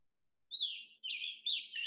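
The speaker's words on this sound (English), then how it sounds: "This is a uh, gray catbird." Gray catbird in spring migration woodland gives a short run of high, squeaky whistled phrases, three quick notes in succession, clear and fairly close against silence.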